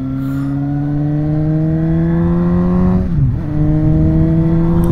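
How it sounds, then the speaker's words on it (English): A Suzuki GSX-S750 motorcycle engine revs steadily, its pitch climbing, then dips briefly before rising again; a deep, throaty exhaust close by with no talking. "Listen, that exhaust."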